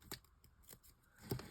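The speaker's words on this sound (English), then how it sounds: "These are the scissors for the sticky." Scissors snip through red card in a few short, crisp cuts, quiet and close, with brief pauses between the strokes.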